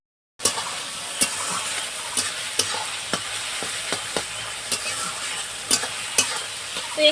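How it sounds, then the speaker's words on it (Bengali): Capsicum and tomato frying in mustard oil sizzle steadily in a pan for a rustic desi chicken dish, with repeated sharp clinks of a spoon stirring and scraping throughout. "এখানে ক্যাপসিকাম আর টমেটো এটাও আমি তেলের উপর দিয়ে দিচ্ছি"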